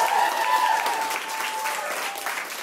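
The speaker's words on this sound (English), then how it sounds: "give yourselves a round of applause for being here" Brief audience applause at a Brooklyn stand-up comedy show, a steady crowd clapping with a faint tone and some voices mixed in.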